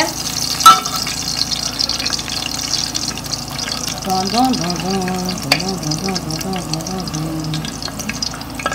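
Oil sizzles with leeks in a cooking pot, a steady close frying hiss with a few sharp knocks, while a voice talks over it partway through.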